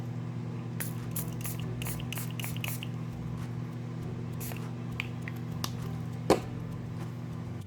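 Several quick hissing sprays from a spray bottle in a rapid cluster, then a few fainter spritzes later, over a low steady hum.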